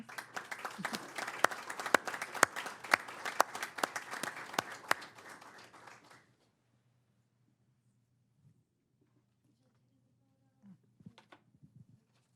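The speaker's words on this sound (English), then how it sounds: "So can we give them a round of applause?" Applause at a city council meeting in Chino, a crowd clapping moderately for about six seconds before stopping abruptly, followed by near silence with a low hum and a few faint scattered claps.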